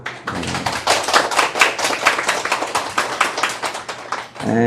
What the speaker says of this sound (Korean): 감사의 박수 드릴까요?